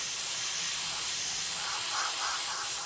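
Steady, continuous aerosol hiss as light coats of white paint are sprayed onto a Hasegawa 1/48 Nakajima B5N2 Kate plastic model kit, close and unbroken throughout.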